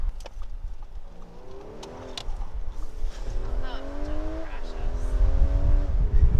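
A 2019 Audi A5 Cabriolet's engine revs and whines through rising and falling gears as the car slides sideways with traction control off, with tire noise, rumble and a voice over it.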